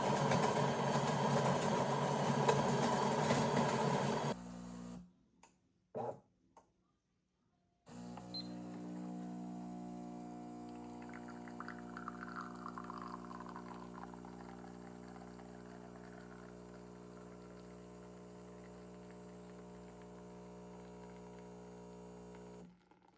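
A Delonghi Magnifica Evo espresso machine brews espresso after its grinder is set finer to position 2: a loud burst of grinding, a short pause, then a steady pump hum with a thin trickle running alone for many seconds.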